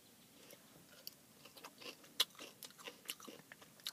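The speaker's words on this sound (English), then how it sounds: "Has a nice crunch to it" Close, crisp crunching of Ozuké fine pickles or kimchi being chewed, a quiet run of irregular bites and soft mouth sounds with no talking.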